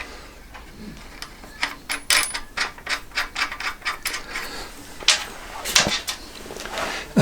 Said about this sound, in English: we just need to pop the nuts and bolts on